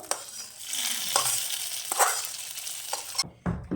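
Ghee-fried tempering spices sizzle and crackle as they are stirred into vegetable khichdi, a close, hissing frying sound broken by scraping stirs and short spoon clatters, no voices.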